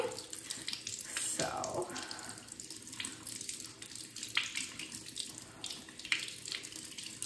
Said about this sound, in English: I'm gonna take it out and I'm gonna rinse it off